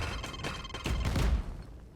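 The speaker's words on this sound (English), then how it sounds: "it's such a strong explosion" Raze's explosive ability in the Valorant video game goes off as a quick cluster of booming blasts in rapid succession, loud and close, swelling toward the middle before fading.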